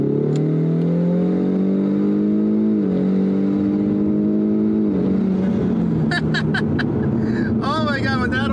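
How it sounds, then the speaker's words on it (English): A Ford Mustang engine roars loudly as it accelerates hard, the exhaust pitch climbing through gear changes, with brief higher squeals near the end. "you can just hear the exhaust, it screams"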